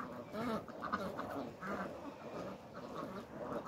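Farm ducks quack in a steady, overlapping chorus at close range on a small farm while being fed fresh grass, with continuous calls and no clear talk over them.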